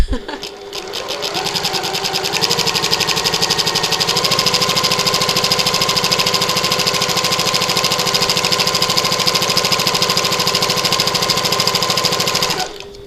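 Sewing machine stitching a button lock bag, a fast steady mechanical whirr running nearly continuously for about twelve seconds close up, stopping abruptly at the end, with no talking over it.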